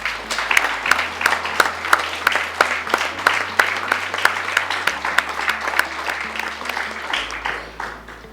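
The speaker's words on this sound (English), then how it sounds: "Can we have the parents to give them a warm applause as well?" Parents applauding graduates at a primary school graduation ceremony, a dense, lively burst of many hands clapping with sharp individual claps standing out, close and loud, tapering slightly toward the end.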